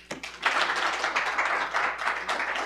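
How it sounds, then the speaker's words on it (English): A conference audience at an economic policy event hosted by the Peterson Institute breaks into sustained applause, a dense, steady wash of many hands clapping at once that holds for nearly three seconds after a brief quiet start. "Applause, please."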